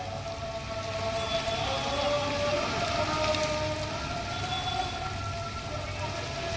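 Heavy rain in Mumbai pours steadily onto surfaces as a dense, even hiss, joined by faint tonal traffic sounds in the background.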